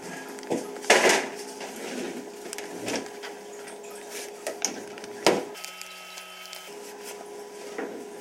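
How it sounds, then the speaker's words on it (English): A baking dish of crumble clatters as it is slid into a preheated home oven, with a few close knocks and scrapes of cookware and a steady hum underneath. "the oven is preheated. And now we put the Crumble Bumble in."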